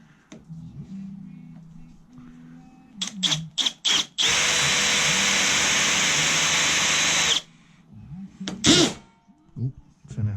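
Hammer drill used while stripping a Hope C2 bicycle brake caliper and master cylinder, several short bursts and then a loud steady run of about three seconds, close by, with talk around it.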